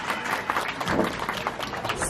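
An audience at an African Lion Safari bird show in Ontario, Canada claps and applauds a parrot's whistling, a steady short burst of scattered hand claps.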